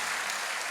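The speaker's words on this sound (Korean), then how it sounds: "오늘 소개한 분들 다시 한번 환영의 큰 박수 한번 보내주시겠습니까?" A quick burst of congregation applause during a church service, many hands clapping together in a brief, even wash.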